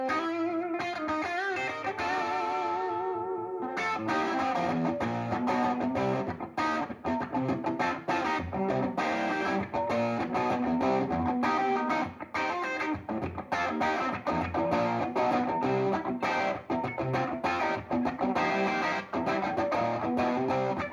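Electric guitar played through an overdriven 1963 Ampeg R-12R Reverb Rocket amplifier, heavily distorted and compressed, with a dense, continuous lick running loud throughout after a brief quieter opening.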